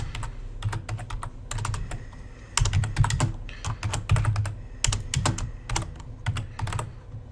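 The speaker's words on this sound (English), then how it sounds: "I'm typing at a funny angle and I'm not lined up with my keyboard" Rapid clicking of keys on a computer keyboard, typed in quick bursts with short pauses, close and steady with no talking.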